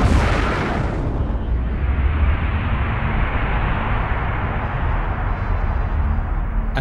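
A Big Bang explosion sound effect: a loud, deep boom bursts out at the start, then settles into a heavy, continuous low rumble that roars on steadily for several seconds with no voices.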